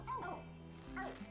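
Cartoon dog in the co-op game Phogs gives two bursts of high yipping, whimpering barks, close and fairly loud, over a steady game hum with no talking.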